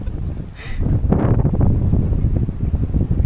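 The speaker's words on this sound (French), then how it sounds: "Le vent souffle, hein." Gusty wind buffets the microphone in low, rumbling bursts, steady and close throughout, near bungalows on Tumbak Island, Sulawesi.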